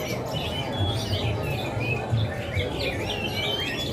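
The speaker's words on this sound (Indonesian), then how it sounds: "Beraneka macam burung terdapat di pasar ini teman-teman." Many caged birds chirp and tweet at a busy bird market, a dense overlapping chorus of high twitters over a steady low crowd murmur, continuous and fairly loud.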